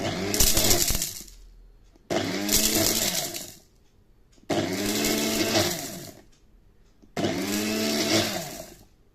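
A Cook Well bullet mixer grinder grinding four peppercorns, running in four loud, close bursts of a few seconds each with short silent pauses between them, its motor whine rising and settling.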